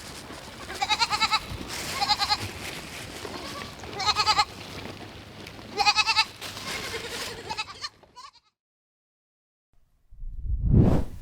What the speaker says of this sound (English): They'll follow me anywhere, these little goats.